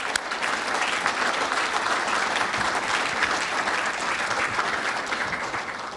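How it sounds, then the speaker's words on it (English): A large audience gives loud, sustained applause for a 2025 athletic Hall of Fame class, a dense, even roar of clapping that holds steady throughout. "let's give one more round of applause for our 2025 Hall of Fame class"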